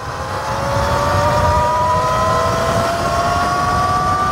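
A turbocharged e-bike at full throttle gives a loud, steady motor whine that climbs continuously in pitch as it accelerates, with broad wind and road rush underneath and no talking.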